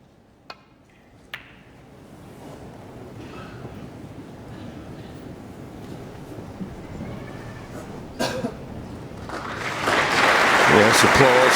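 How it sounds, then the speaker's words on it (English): Audience in the arena of a snooker final applauds, starting out quiet with a few sharp knocks, then swelling into dense, louder clapping over the last couple of seconds. "applause for the good length off the break-off shot."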